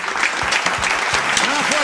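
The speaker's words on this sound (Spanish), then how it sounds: "Fuerte el aplauso, Mohamed." A festive audience in Marbella claps in a short burst of applause, loud and close, with voices talking over it.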